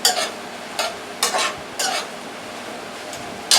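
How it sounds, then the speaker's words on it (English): Broccoli and mixed vegetables are stirred in a sizzling stir-fry pan, with several scraping bursts of the utensil against the pan over a steady frying hiss. "I'm just mixing the broccoli in so some of that seasoning can get on the broccoli"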